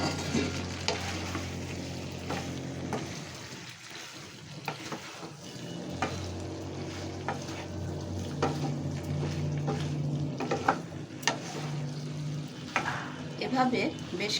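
Potatoes and pointed gourd fry and sizzle in hot oil with a hilsa fish head being cooked down, a steady sizzle with occasional stirring scrapes and clinks, and brief speech now and then.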